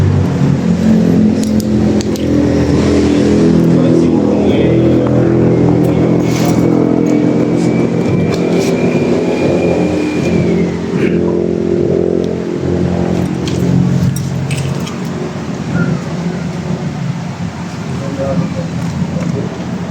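Vehicles pass on a nearby highway beside an ancestral house in Mindanao, a steady, loud rush of traffic with engines rising and falling. People talk over it throughout.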